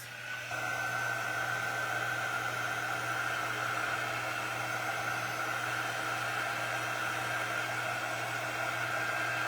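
Hair dryer blowing to dry paint dots on a reindeer ornament cutout, a loud steady rushing drone with a constant hum that starts abruptly and runs without pause, no voices.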